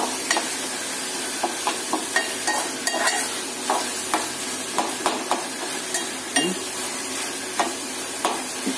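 Dried prawns with ginger garlic paste fry in a pan with a constant hissing sizzle, punctuated by frequent clicking scrapes of a spoon stirring against the pan, close up and without speech.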